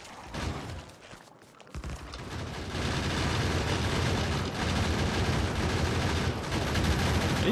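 Gun turrets in the factory game Factorio: Space Age fire at biters in a dense, continuous rattling barrage that builds after a short lull and then holds loud and steady, with no talking.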